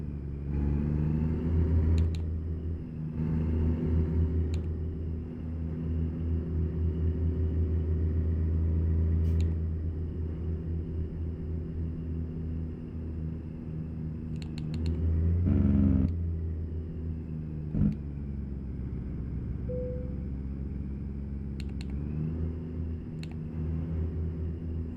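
Bus engine in American Truck Simulator idles and runs with a steady low rumble throughout, swelling slightly as the revs rise and fall, with occasional brief clicks over the drone.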